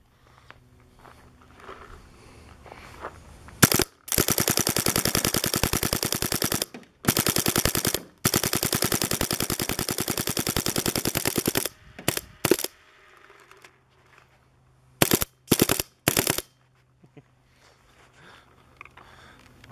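A prototype Boston Reflex Mini Cocker paintball marker fires in rapid bursts, its piston cycling in fast mechanical rattles: a short burst, two long sustained strings, then a few quick clusters, loud and close with quiet gaps between.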